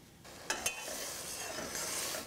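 Lightly golden onions with added tomatoes sauté in a pan for an eggplant curry, a soft, steady sizzle near and faint, marked by two quick stirring knocks early on.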